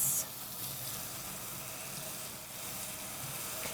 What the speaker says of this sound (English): You can hear it sizzling. You want a nice sizzle.